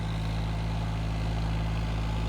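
John Deere tractor engine running at full RPM, a steady droning hum with a constant low tone, unbroken and even throughout the short stretch.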